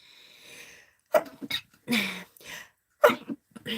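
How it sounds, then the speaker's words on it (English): A single sharp sneeze bursts out after a soft breathy lead-in, followed by a few short exhales and throat noises nearby. "Oh, I gotta sneeze."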